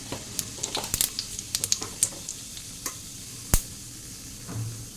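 Cumin seeds crackling and popping in hot oil with whole garam masala, dried chillies and bay leaves for a jackfruit curry, a close steady sizzle dotted with sharp spits and a few stirring clinks.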